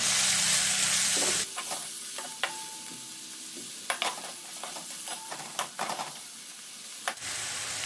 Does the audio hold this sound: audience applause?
no